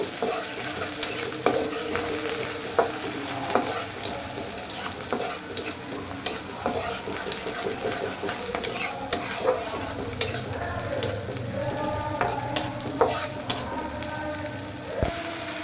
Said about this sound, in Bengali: পেঁয়াজের কলি দিয়ে দিয়েছি স্বাদ মতো লবণ, নেড়ে চেড়ে মিক্স করে দিব